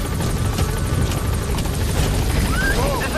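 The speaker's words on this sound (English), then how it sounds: "Support helicopter has arrived." Support helicopter in the video game Metal Gear Solid V: The Phantom Pain, a loud continuous rotor thrum and turbine whine hovering close, with brief electronic chirps near the end.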